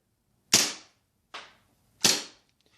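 An airsoft Glock 19 Gen 4 pistol fires BBs, three sharp snapping cracks spaced under a second apart, close and loud with quick decays, the middle shot softer.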